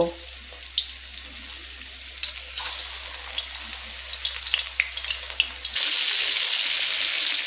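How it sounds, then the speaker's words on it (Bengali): Chicken meatball balls deep frying in hot oil, a steady busy sizzle with scattered crackles, then a brief burst of running tap water near the end. "এইভাবে সমস্ত মাংসের পেস্টকে আমি এরকম বল বানিয়ে তেলে ডিপ ফ্রাই করে নেব"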